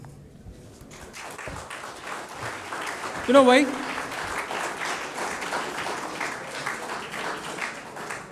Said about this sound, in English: I would like everybody to give a round of applause to